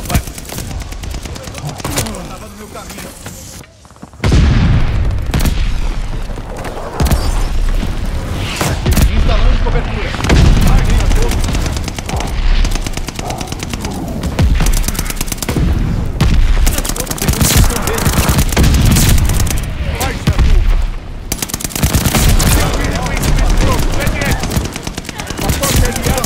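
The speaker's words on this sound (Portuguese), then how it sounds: "Barragem de morteiro aliada chegando." Mortar barrage explosions in the game Call of Duty Vanguard, loud, dense booms and rapid gunfire rolling almost continuously after a brief lull near the start, with voices heard in the mix.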